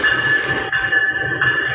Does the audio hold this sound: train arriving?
yes